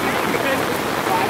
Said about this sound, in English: It's beautiful rain.